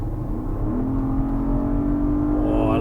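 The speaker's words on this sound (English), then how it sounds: "Sounds great, the S. The S has a new V8." A 2024 Porsche Cayenne S with its new V8 engine accelerates, a steady loud engine drone whose pitch climbs toward the end, heard close with no talk.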